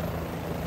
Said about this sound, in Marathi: हेलिकॉप्टरची लगबग फार जोरात सुरू होते,